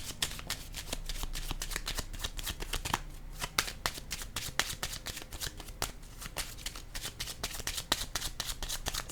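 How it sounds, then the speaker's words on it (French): A deck of playing cards is shuffled over and over in a steady stream of crisp riffles and flutters, close and fairly loud, with no talk. "Attendez, je vais piger une carte"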